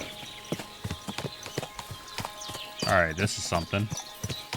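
Horse hooves clip-clopping at a steady walking rhythm in the video game Kingdom Come: Deliverance II, with a whinny partway through and someone talking over the hoofbeats.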